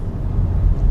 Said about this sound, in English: This car really accelerates very nicely up to the speed limit with no trouble at all.